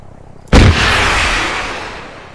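A single loud, sharp gunshot from a weapon in the video game Arma 3 (Life mod, bank robbery), followed by a long booming tail that slowly decays.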